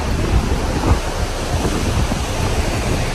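Ocean surf crashing against the rocky sandstone cliffs at Cape Solander, Kurnell, NSW, a steady loud roar of waves with wind buffeting the microphone throughout and one heavier surge about a second in.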